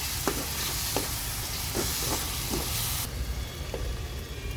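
Finely chopped tomatoes fry in a pan with chili powder as a spoon stirs them, giving a steady close sizzle broken by several scraping stirs of the spoon against the pan.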